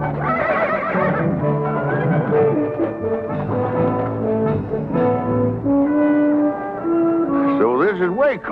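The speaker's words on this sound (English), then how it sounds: "Let's stable our horses" Loud, close horse whinnies ring out repeatedly over western film music, with a final rising neigh near the end.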